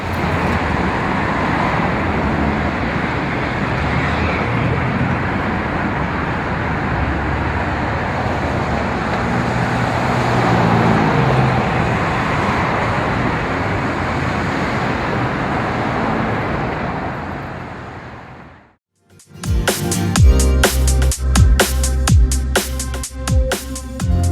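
Road traffic roars steadily around a car on the move, a dense continuous rumble and hiss at close range for most of the stretch, then a sudden cut to near silence and a burst of different, choppier sound.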